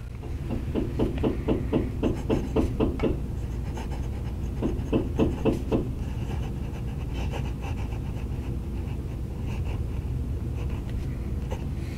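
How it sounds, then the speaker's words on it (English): Hammering from construction work on a deck comes in two bursts of rapid, evenly spaced blows, moderately loud and slightly distant, followed by a quieter stretch with only faint background noise. "I'm having construction work done on the deck, and you can hear hammering in the background."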